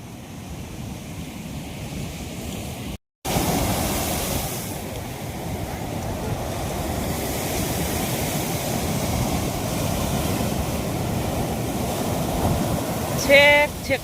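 Sea waves roll in at full high tide near a jetty in a steady, broad wash of surf with wind buffeting the microphone, after a short break, and a voice speaks faintly near the end.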